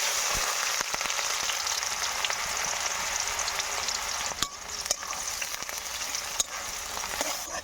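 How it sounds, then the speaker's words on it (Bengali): Sliced onions sizzle hard in oil in a hot wok, browning into crisp fried onions. A dense, steady crackle continues throughout, broken by a few scraping stirs, with no talking. "তো আমি পেঁয়াজগুলো ভেজে নেব।"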